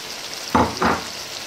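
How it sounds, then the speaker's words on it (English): Boiled lamb meat, about a kilogram, dropped into a hot pan over a base for pilau: a sudden loud sizzle, then a second burst of sizzling as it settles, with no talk. "now we throw in our meat, which is about 1 kg"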